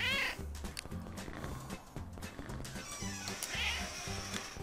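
Cats meow repeatedly in the video game CatNab, several short, clear mewing calls over a thumping, patterned game music loop that keeps going throughout.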